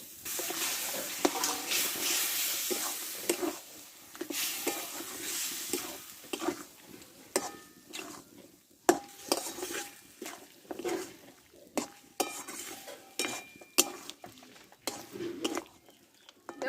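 Goat mutton being stirred into a spice paste with turmeric in a pan, with irregular scraping and clattering strokes over a faint sizzle, close and fairly quiet.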